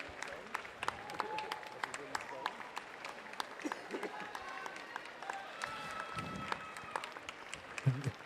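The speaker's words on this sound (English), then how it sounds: "let's give him a cheer as he comes down this final stretch" Spectators at a county swim meet cheer and clap for a young swimmer on the final length, a continuous crowd din of scattered claps and shouts with an announcer talking over it.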